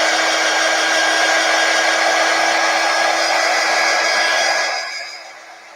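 A hair dryer blows steadily and loudly on chalk paste stenciled onto a cow-themed door tag, a constant whooshing hum that carries on for several seconds before fading as it is switched off.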